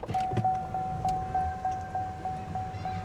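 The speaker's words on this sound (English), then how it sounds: "Why is the seat going back?" An electric motor moves a car seat back, a steady whirring hum with slight rhythmic pulsing inside a car, close and fairly quiet.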